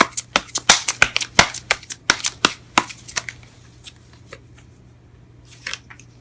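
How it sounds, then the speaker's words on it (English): Tarot cards are shuffled and pulled from a deck in a quick run of crisp, close card snaps and flicks, then tapering into a few softer rustles and a brief flutter. "Let me just pull one more card for that"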